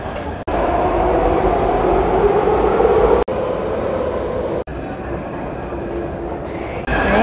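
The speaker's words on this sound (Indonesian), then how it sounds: "ini datang keretanya." A train pulls into a station platform, a loud, sustained rumble of wheels and carriages with brief squeals, broken by a few abrupt cuts.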